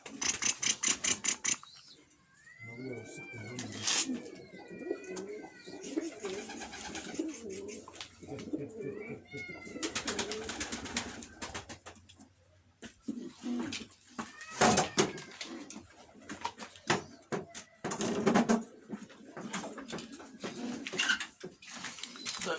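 Van pigeons coo in a repeated, throaty rhythm close by, with a few brighter bird calls and sharp bursts of wing flapping and handling noise between the coos.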